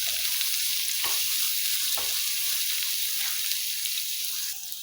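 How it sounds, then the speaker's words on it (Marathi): Onion sautés in a pan with salt added, giving a continuous close frying sizzle with a few scraping stirs of a spoon against the pan, and no one speaking. "कांदा परतून घेऊया. कांदा लवकर सॉफ्ट व्हावं म्हणून मीठ टाकूया."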